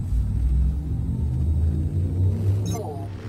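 Frameshift drive charging aboard a Fer-De-Lance ship in Elite Dangerous: a deep, steady rumble that holds for the whole few seconds, with a short rising tone near the end.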